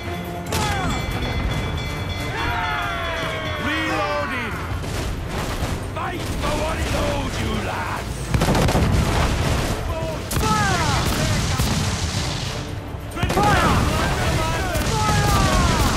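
Ship cannons fire repeatedly in a naval battle in Assassin's Creed IV Black Flag, heavy booms rolling over each other under shouted crew voices and ongoing battle noise.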